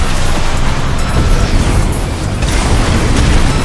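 Mech weapons firing in the video game Armored Core VI, a dense, continuous barrage of loud booming blasts and bursts filling the whole stretch with no pause.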